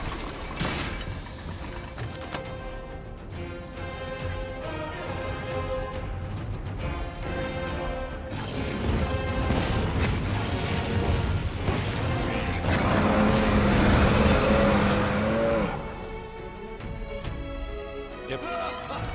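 Defender cannon firing in the video game Monster Hunter Rise during a village gate defense, heavy booming blasts and crashes mixed with game music and effects, building louder midway.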